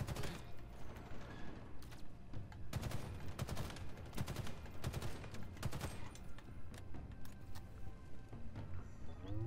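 A turret in Halo Infinite fires close and loud in rapid bursts of gunfire, with a few brief pauses between volleys over steady battle noise.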